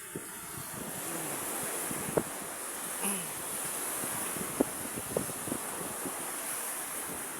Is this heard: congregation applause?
no